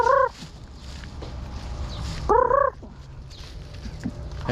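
Farmyard chickens around feeding time, with two short bursts of loud, warbling fowl calls near the start and midway over a low background rumble and faint scattered clucks.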